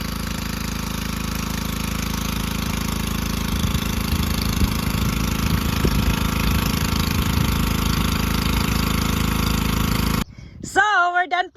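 An engine-driven pump transferring water from a slough into a big steel farm tank drones steadily and loudly for about ten seconds, then cuts off, followed by a brief burst of voice.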